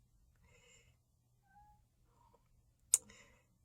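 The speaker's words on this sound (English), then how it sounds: "Please ignore the fussy cat." A fussy house cat meows faintly in a quiet room, a few soft separate calls spread over a few seconds, then a sharp brief click near the end.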